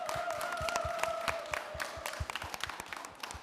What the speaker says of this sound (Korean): 우리 다시 한번 크게 박수로 맞이해 주시면서 이야기를 시작해 볼까요?